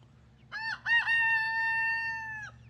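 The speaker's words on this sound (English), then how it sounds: "We have 11 like 4 or 5 week old chicks out here, and they're enjoying it." A single young chicken, one of several four- to five-week-old chicks in an outdoor chicken run, gives a couple of short clipped notes and then one long, drawn-out crowing call, fairly close and clear over a quiet low hum.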